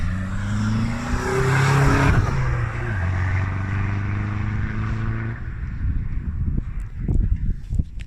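A Vauxhall Vectra C 1.9 CDTI 150 diesel with stage 1 tuning and a straight-pipe exhaust drones loud and deep for about five seconds, its steady low tone rising briefly, then cuts off, leaving a few faint knocks and rustles.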